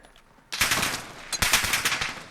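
After a brief quiet moment, a VKS rifle in Call of Duty Modern Warfare opens up on full auto, firing a rapid, loud stream of shots that pauses briefly and then continues.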